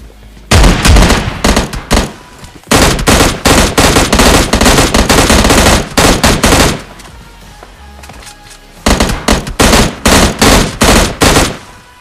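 M16 rifle fire in a PUBG Lite solo firefight, loud rapid bursts in three long volleys separated by short pauses, close and dominant.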